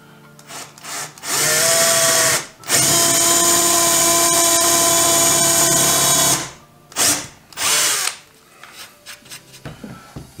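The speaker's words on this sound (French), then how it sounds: "on va déjà faire un test avec notre mèche ici" Boring a test hole with a power drill and bit while building a spice rack. Two long, loud whirring runs are heard, followed by short bursts and quieter handling noises.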